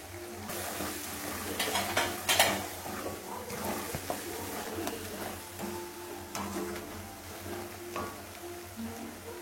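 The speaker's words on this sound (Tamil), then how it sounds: "காஷ்மீரி சில்லி பவுடர் போட்டுடுறேன், பூண்டு ஒரு வதக்கலாம்." Garlic and Kashmiri chili powder sautéing in a pan for a tamarind ginger dish, with steady close sizzling and frying crackle, occasional stirring scrapes and a few sharper clinks of utensil against the pan.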